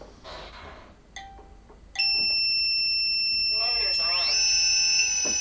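A quadcopter arms with its ESCs and motors starting up, giving a series of rising electronic beep tones followed by steady high whining that warbles and climbs, up close after brief talk.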